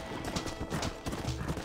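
Horse hooves clip-clop in the Red Dead Redemption video game, a quick uneven run of muffled thuds over a busy, rumbling background.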